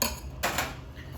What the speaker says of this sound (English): this sounds like, well, the ice is already crushed